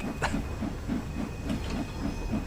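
In Train Sim World 2, a steam locomotive on the Liverpool Lime Street to Crewe line climbs a 1-in-93 gradient with a full train, giving off a steady, rhythmic chuff of exhaust beats over low rumble and hiss.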